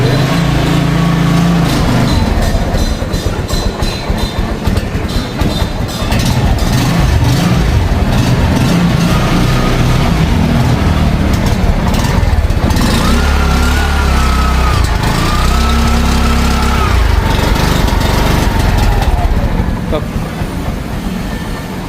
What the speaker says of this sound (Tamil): நூற்றி தொண்ணூற்றி ஒன்பது CC four stock four stock பாருங்க டிவிஎஸ் சவுண்டை பாருங்கள்